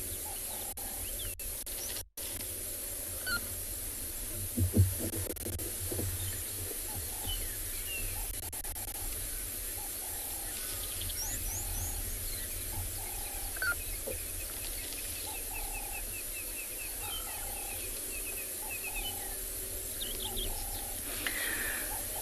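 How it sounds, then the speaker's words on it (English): Magpie shrikes call faintly in the distance over a constant hiss of insects, with scattered chirps and whistles throughout, on an afternoon safari in South Africa. "You can hear some magpie shrikes calling in the background."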